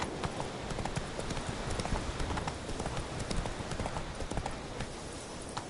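A horse gallops in The Witcher 3, its hooves clip-clopping in a steady, quick rhythm over a dense, noisy background, moderately loud and continuous without speech.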